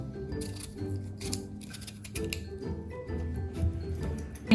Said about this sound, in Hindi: तो मैं इनको पील कर रही हूँ।